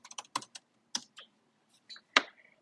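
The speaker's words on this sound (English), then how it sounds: "So just typing right here" Quiet typing on a computer keyboard: a run of separate key clicks in uneven bursts with short pauses, close and clear.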